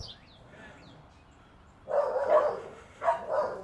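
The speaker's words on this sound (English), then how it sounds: "try to get those dogs to stop barking as well" Dogs bark in a home kitchen, with two short clusters of barking after a quiet stretch, at moderate distance and with no talk over them.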